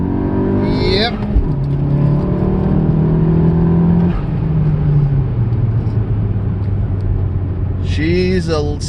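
Honda Civic Sport fitted with a TSP Stage 1 kit accelerating in second gear, a loud close engine note rising in pitch steadily, then a brief shift and another rev climb near the end, with a person talking over it.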